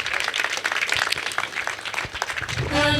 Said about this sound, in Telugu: గట్టిగా చప్పట్లు కొట్టుకుందాం